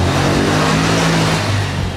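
Tricycle motor engine revving as it passes nearby on the street, a loud, rough, buzzing drone that swells and then eases slightly over two seconds.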